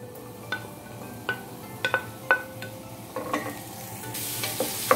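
Chopped onion and green chillies frying in oil in a pan for a pasta cake, a steady close sizzle broken by several sharp utensil scrapes and stirring clinks, with no voices.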